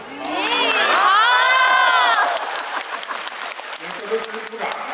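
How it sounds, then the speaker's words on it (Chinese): Audience applause and cheering erupt at a live crosstalk comedy show, rising over a loud vocal outburst at the start, then settling into a steady crowd clapping that continues under a performer's voice. "你这都是鼓掌啊！"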